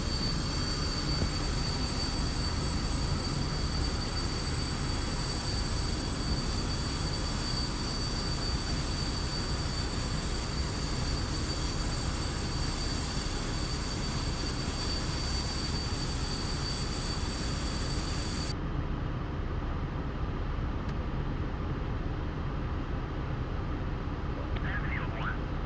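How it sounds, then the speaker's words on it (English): A loud, steady jet engine roar of an F-100D Super Sabre in the flight simulator Digital Combat Simulator, with a high-pitched whine on top running throughout; the whine drops out near the end. "that engine sound, you can't synthesize that"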